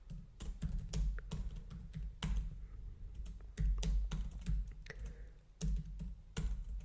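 Steady typing on a computer keyboard up close, a busy stream of key clicks with occasional louder thumps, no voices.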